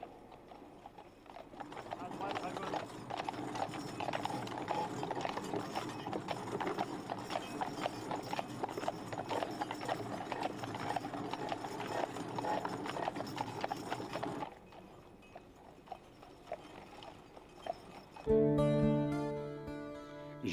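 Draft horses pull a heavy load on a sled with wooden runners, their hooves clopping in a quick, dense rhythm over a scraping drag for most of the stretch before the sound drops away and music comes in.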